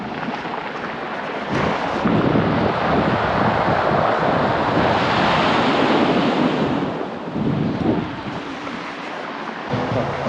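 Loud, continuous surf roar of big ocean waves breaking on a beach at high tide near Bauan, Batangas, with heavy wind buffeting the microphone throughout.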